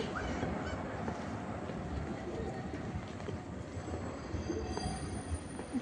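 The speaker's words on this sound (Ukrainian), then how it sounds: "електричка їде" An electric commuter train rumbles past in an open outdoor spot in Prague, a steady broadband roar of wheels and motion that holds loud and close across the whole stretch, with a brief honk-like tone near the end.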